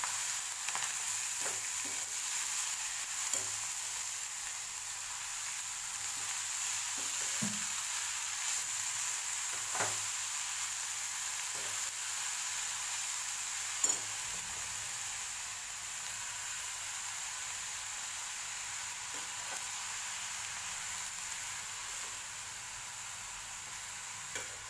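Finely chopped fenugreek leaves frying in a pan for lasuni methi, a long, even, hissing sizzle with occasional faint taps and clicks, with no talking.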